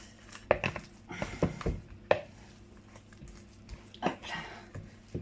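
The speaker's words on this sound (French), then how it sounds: "On tourne, on appuie pour bien tout incorporer." A spoon stirs and presses egg into thick choux pastry dough in a pot, giving soft scattered scrapes and a few sharper knocks against the pan, fairly quiet with no talk.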